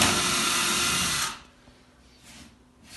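A loud, steady whine of a power drill boring into a wooden wall stud for over a second, then it stops, leaving quiet room noise.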